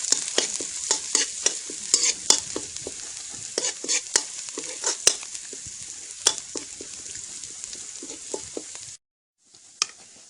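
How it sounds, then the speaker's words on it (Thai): Dried chili, lemongrass, kaffir lime leaves and garlic stir-frying in a pan, with steady sizzling and repeated sharp clicks and scrapes of a spatula, close and continuous, pausing briefly near the end. "พริกแห้งตะไคร้ใบมะกรูดกระเทียม หอมๆผัดเครื่องให้หอมก่อน"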